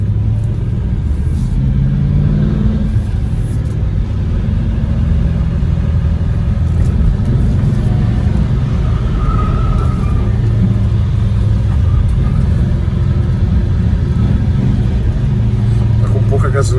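A 1969 Chrysler Esplanada with a small-displacement engine, running low on fuel, keeps up a steady mid-pitched engine rumble while driving, with someone talking over the drone throughout.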